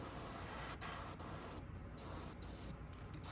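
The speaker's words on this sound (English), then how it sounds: "This gun sprays very soft." A paint spray gun applying moss green paint to a bream fishing lure, a soft, steady airy hiss running continuously with brief dips, quiet and close.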